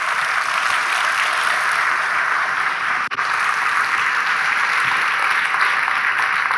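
A large audience applauds steadily after a keynote at a racing conference, a dense, even wash of clapping that holds from start to finish, with a brief dip partway through.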